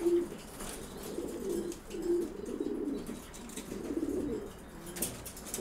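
Domestic pigeons kept in a loft during pairing season coo in repeated low, rolling phrases, close by, with faint chirps and a brief wing flutter in the background and no talk.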